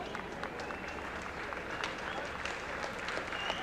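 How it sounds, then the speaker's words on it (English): A racetrack crowd at Yonkers Raceway applauds a trotter before a 1990 international trot, giving a steady, faint, distant wash of clapping with a murmur of voices. "It's a nice round of applause for Meadow Roland."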